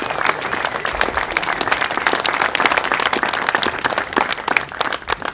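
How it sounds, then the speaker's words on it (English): Outdoor audience at the Ukrainian Peace Monument unveiling at Strawberry Field, Liverpool, gives a loud, dense round of applause, many hands clapping steadily for about five seconds with no pause. "Give me a round of applause"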